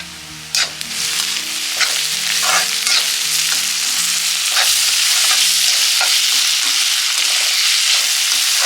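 Peas and onions fry in hot oil in a pan for poha, a steady loud sizzle with repeated scraping stirs and clinks throughout, no talking.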